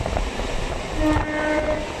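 A Kolkata local train on the Sealdah–Sonarpur line pulls into New Garia station, its steady rumble and wheel clatter loud and close throughout, with a faint horn tone sounding in the middle.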